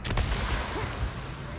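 Gunfire in the video game Days Gone, aimed at explosive barrels: a sharp, loud burst of shots right at the start, then a rumbling tail.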